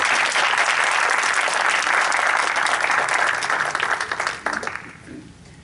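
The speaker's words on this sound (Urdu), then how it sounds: "ایک بار پھر ان کے لیے تالیاں ذرا زوردار" Sustained, vigorous applause from an audience at an Urdu literary evening, a steady, loud roar of many hands that tapers off in its last second or so.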